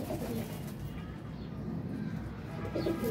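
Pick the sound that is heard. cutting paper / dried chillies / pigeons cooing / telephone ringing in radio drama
pigeons cooing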